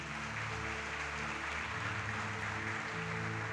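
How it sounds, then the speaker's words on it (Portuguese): An audience at a family conference in a church applauds, a faint, even, continuous wash of many hands with no distinct individual claps and low tonal hum beneath. "Você pode aplaudir Jesus?"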